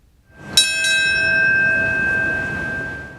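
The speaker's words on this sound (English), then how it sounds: "Another bell marked the exact moment when that second plane hit the World Trade Center as well." A single memorial bell in New York City rings out once with a clear metallic strike, its tone sustaining and slowly decaying over the remaining seconds, with no talk.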